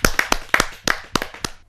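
Sparse, close clapping from a kavi sammelan audience greeting poet Madan Mohan Sharma: about eight separate sharp claps, unevenly spaced, spread over under two seconds, with no voices.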